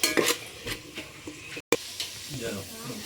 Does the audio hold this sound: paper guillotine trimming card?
no